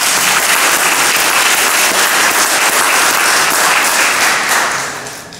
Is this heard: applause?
yes